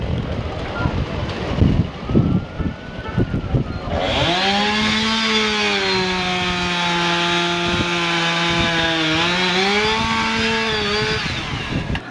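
Chainsaws cutting downed trees after Hurricane Sandy, first mixed with gusty outdoor noise and voices, then a close, loud saw whining steadily, its pitch dipping and recovering as it bites into the wood.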